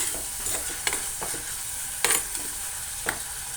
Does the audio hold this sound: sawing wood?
no